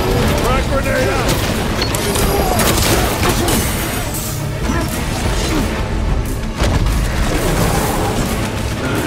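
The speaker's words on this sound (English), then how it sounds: "Frag grenade out!" A frag grenade detonates amid heavy gunfire and combat noise in the video game Warhammer 40K: Space Marine 2, with booming blasts and dense battle sounds running throughout and a voice audible in the mix.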